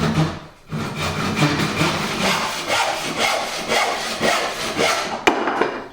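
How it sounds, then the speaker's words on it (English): A hand saw cuts through a wooden door architrave in steady, rhythmic back-and-forth strokes, close and fairly loud, with no talking. "I'm going to saw that off."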